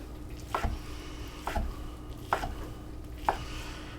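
A knife cuts stew meat into small cubes on a board, four evenly spaced soft thuds with a slight wet squish, close and fairly quiet over low background hum.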